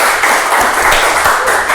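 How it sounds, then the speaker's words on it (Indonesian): A small group in a casual hangout claps hands in a brief, dense burst of applause, bright and close, with a hint of voices under it. "Wih, tepuk tangan dong."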